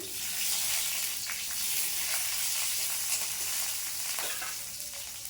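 Ground spice paste of coriander, cumin, ginger and fennel frying in a pan for a fish curry with ridge gourd, a dense, even sizzle with occasional stirring scrapes and no voices.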